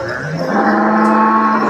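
A dairy cow at a cattle market in Mandi Dabwali moos once, loud and close, a long low bellow that swells and holds to the end.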